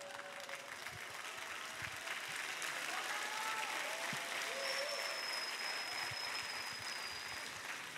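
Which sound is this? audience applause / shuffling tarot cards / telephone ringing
audience applause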